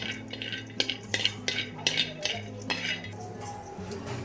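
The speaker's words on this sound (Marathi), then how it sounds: "गॅसवर हे शेंगदाणे मी भाजते" Peanuts dry-roasting in a pan over a gas flame as a utensil stirs them, giving a run of light metallic clinks and scrapes at an irregular pace, close and fairly quiet.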